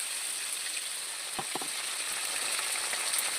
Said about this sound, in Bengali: কাঁচা লঙ্কা দিয়ে আমি আর একটু কষিয়ে নেবো